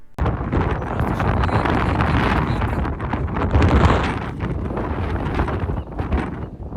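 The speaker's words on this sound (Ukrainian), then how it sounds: "Сторона, яка дивиться на Сан-Франциско, дуже вітряна." Strong wind on the side facing San Francisco roars and buffets the microphone steadily, a loud continuous rushing with gusty surges and nothing else clearly audible.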